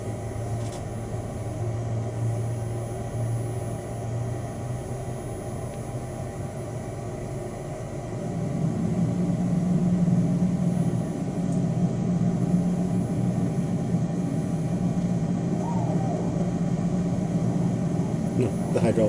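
Engine number 1 of an Airbus A320 starts in a flight simulator, a steady low hum that swells partway through into a louder, fuller drone, with people talking over it.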